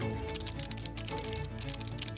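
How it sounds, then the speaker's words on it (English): Rapid typing on a computer keyboard during a Minecraft livestream, a steady stream of quiet key taps and clicks over a constant low hum of background sound, with no speech. "I'm pretty sure you guys can hear my keyboard"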